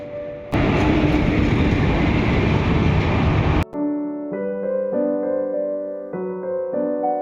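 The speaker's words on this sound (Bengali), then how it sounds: "এই যে ট্রেনও চলে আসলো। এটা আসলো হচ্ছে আলিপুরদুয়ার জাংশন থেকে।" A train arriving from Alipurduar Junction rumbles past loudly for about three seconds, then cuts off and gives way to sustained tonal sounds.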